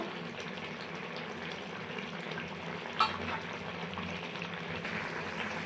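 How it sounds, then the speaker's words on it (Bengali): Eggplant, potato and tomato boiling in a pot with water, a steady dense bubbling simmer close by, even and continuous with one small clink, no talk. "দেখুন বন্ধুরা, সবজি আমার টক টক করে ফুটে উঠেছে"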